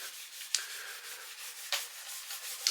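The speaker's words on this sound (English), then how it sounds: "And then I just rub this down, and I will continue to rub this down." Hand rubbing down an oil finish on a Telecaster kit guitar body, a soft continuous swishing friction with three sharper scuffs at roughly one-second intervals, close and quiet.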